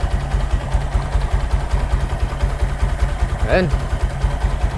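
A Honda XRM125 motorcycle with a carburetor and 57mm block idles close by, its engine putting out a steady, even low-pitched pulsing throb. Someone speaks briefly over it.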